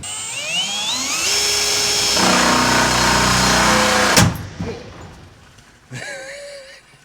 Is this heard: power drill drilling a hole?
yes